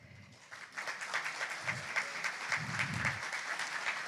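A seated audience at a fireside chat event gives a round of applause, a dense patter of many hands clapping steadily at moderate distance, with occasional low murmurs underneath.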